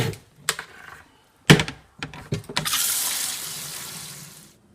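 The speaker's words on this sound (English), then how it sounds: "I'm going to fill it with water" A few thunks and clatters, then a steady rush of water pouring into a container for a couple of seconds before stopping.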